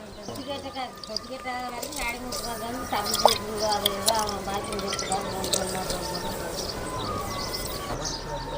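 Water boils in a pot while bitter gourd curry is being made, giving a continuous close bubbling and dripping texture, with a voice faintly audible over it.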